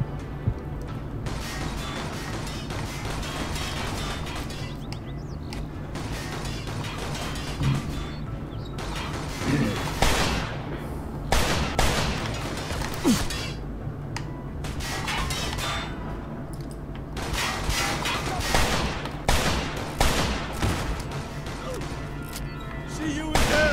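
Shotgun blasts ring out in a Mafia II shootout: several loud, sharp bursts in irregular clusters, some fired in quick succession, over a constant rumbling game soundscape.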